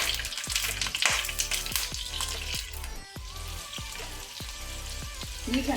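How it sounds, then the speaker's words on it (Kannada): Seven boiled eggs sizzle and crackle steadily in hot ghee over a low flame for egg biryani, with a loud continuous frying hiss and occasional popping spatters close by. "ಈಗ ನಾನು ಫ್ಲೇಮ್ ಅನ್ನು ಲೋ ಅಲ್ಲಿ ಇಟ್ಕೊಂಡು 7 ಮೊಟ್ಟೆ ಹಾಕ್ತೇನೆ"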